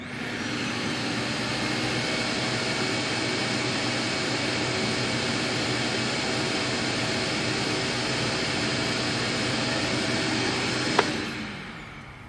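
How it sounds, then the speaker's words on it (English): Shop vac running on a portable LiFePO4 power station, a loud steady whooshing roar holding constant for about eleven seconds before switching off with a click and quickly winding down. "Starting with this shop vac."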